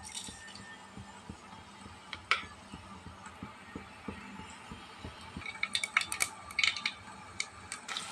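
Mustard seeds and urad dal dropped into hot sesame oil in a kadai, a faint, quick run of popping ticks and sizzling crackles that thickens toward the end.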